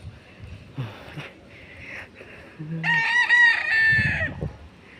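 A rooster crows loudly nearby, a long strained call lasting over a second, preceded by softer clucks and outdoor noise near pine trees in Silang, Cavite.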